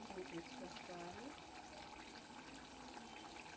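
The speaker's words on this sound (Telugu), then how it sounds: "చింతపండు పులుసు అయితే పోసుకుంటున్నానండి." Tamarind extract is poured into a cooking pot, a soft liquid splash and trickle running under a person talking throughout.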